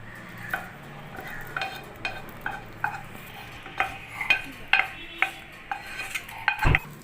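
A utensil scrapes and taps against a pan while stirring a dish made from rolled bread, repeated close knocks and scrapes over a faint sizzle, with no talking.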